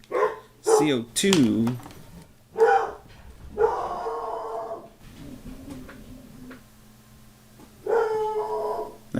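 A hyper pet dog barks in a few short, loud bursts near a person lecturing on respiratory physiology, with the speech continuing around and between the barks.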